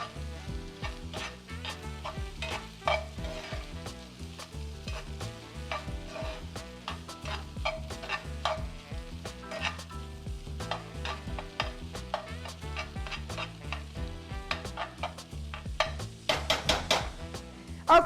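A vegan breakfast stirred in a frying pan, with a soft sizzle underneath and rapid scraping, clacking utensil strokes against the pan that grow busier toward the end.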